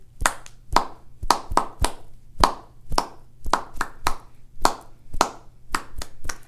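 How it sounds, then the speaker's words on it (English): A group of children claps out a song's rhythm with no singing, a steady run of crisp, close hand claps in short uneven groups. "So all we'll have is claps."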